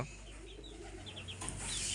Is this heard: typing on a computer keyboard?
no